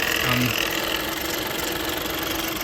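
A Honda car engine cranking and running with a steady mid-pitched drone and faint knocking rattle, a possible alternator clutch fault, continuous and fairly loud throughout.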